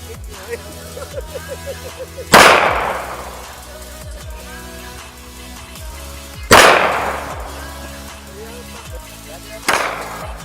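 SCCY CPX-2 pistol fired outdoors, three sharp loud shots spaced several seconds apart, each with a ringing decay, under faint background sounds.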